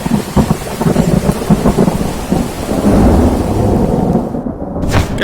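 Thunderstorm with steady rain on surfaces and deep rolling thunder swelling through the middle, loud and sustained, then a short break in the high hiss near the end before the rain noise returns.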